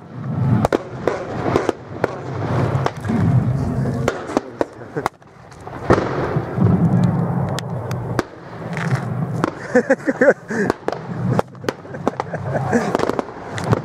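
Blank gunfire and explosions at a reenactment of the battle near Pleven, many sharp bangs and cracks scattered irregularly, some close and loud, while people talk throughout.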